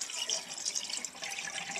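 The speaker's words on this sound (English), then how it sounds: "And let's take and pour this down the traps to the sink." Biodegradable RV antifreeze pouring down a camper sink drain and trap, a steady close liquid splash and trickle lasting the whole short stretch, with no voices over it.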